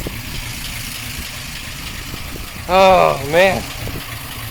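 A 1953 Oldsmobile Rocket Super 88 barn find idles with a low, steady engine rumble as someone briefly speaks over it.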